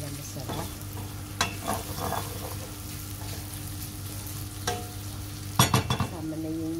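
Chicken hotdogs fry in a pan, a constant crackling sizzle broken by occasional clinks and scrapes of stirring, with a quick cluster of utensil knocks near the end.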